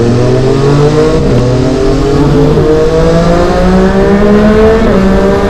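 Italian three-cylinder supersport motorcycle engine revving loudly and close, a sustained harmonic growl with rising and falling pitch across several blips, with no talking.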